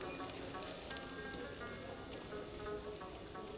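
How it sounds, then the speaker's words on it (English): Steady crackling sizzle of garlic frying in a pan, continuous and soft, with faint background noise throughout. "And our garlic is sizzling away."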